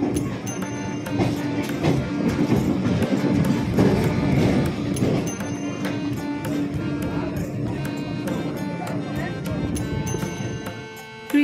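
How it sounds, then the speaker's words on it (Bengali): A passenger train runs on rails past Badkulla toward Krishnanagar station, a steady rattling rumble with rhythmic clicks of wheels over rail joints heard from inside the carriage, with some faint voices in the background. "দেখতে দেখতে আমাদের ট্রেন বাটকুল্লা পেরিয়ে গেল"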